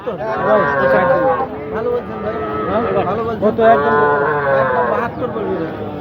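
Sahiwal cattle low repeatedly at a busy Bangladeshi cattle market, long loud moos rising and falling amid a crowd whose voices and chatter murmur underneath throughout.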